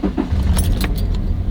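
Car keys jangle sharply several times over a low, steady engine rumble close by, with no talking.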